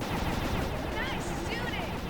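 Video game gunfire in Sly 2: Band of Thieves rattles on in a dense, continuous barrage of rumbling shots, moderately loud and unbroken.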